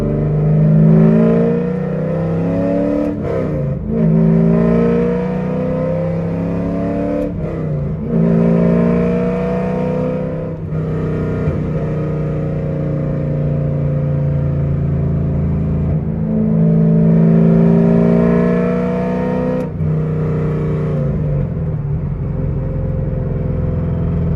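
A manual C5 Corvette fitted with headers revs hard on a dyno, its loud, raspy V8 climbing through repeated pulls with brief drops between them, close and unbroken by talk.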